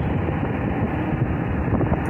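Wind buffeting a microphone on a trip around Las Vegas, a loud continuous low rumbling roar that stays steady throughout, with no speech.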